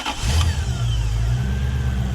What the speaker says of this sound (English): Engine has to run and turned off.